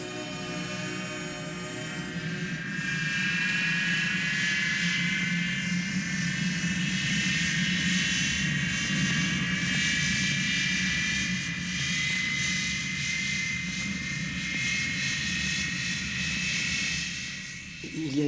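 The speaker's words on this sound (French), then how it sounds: "On prend cet avion là-bas?" An airplane engine roars loudly and steadily, a sustained whine and rumble that rises after a quieter start and holds for the length of the clip.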